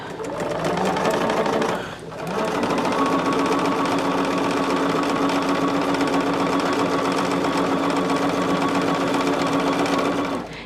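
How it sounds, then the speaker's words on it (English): A sewing machine stitches Christmas quilt pieces together, running in a steady, close whir, with a short pause near the start before it resumes and carries on evenly. "I'm just going to start sewing these together so we can get this right"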